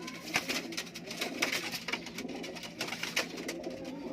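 A Kamagar high-flying pigeon coos nearby in soft, repeated low calls, joined by faint fluttering and chirps against quiet background noise.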